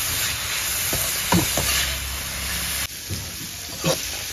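Upma frying in a pan at home, a steady hiss and sizzle with a few scraping stirs, close and continuous with a brief dip partway through.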